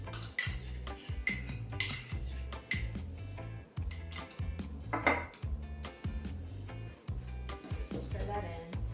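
Coconut yogurt is stirred into walnut cake batter in a bowl, with a rhythmic series of utensil clinks and scrapes against the bowl repeating steadily throughout.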